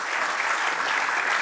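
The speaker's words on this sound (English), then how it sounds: "That is worthy of applause." A dense, steady wash of applause from a crowd at a CEO leadership conference, sustained and even throughout with no voices standing out.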